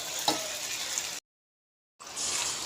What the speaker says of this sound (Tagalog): Umpisahan na natin magprito.